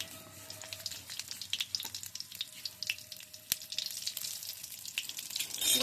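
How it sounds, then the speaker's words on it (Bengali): Whole cumin seeds and a green chili fry in a small amount of oil, giving soft, scattered crackles and pops over a quiet sizzle, close and fairly faint. "গোটা জিরে আর কাঁচা লঙ্কাটা দেখুন ভাজা হয়ে গেছে"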